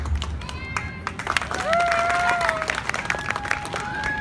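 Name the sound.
audience applause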